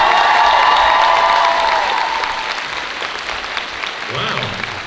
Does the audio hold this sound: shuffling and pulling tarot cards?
no